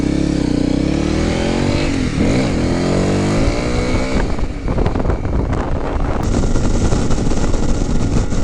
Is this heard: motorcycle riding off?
yes